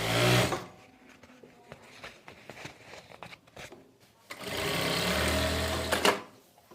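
An electric sewing machine stitching fabric folded over foam, running in a short burst, then a stretch of fabric handling and clicks, then another sustained whirring run nearby.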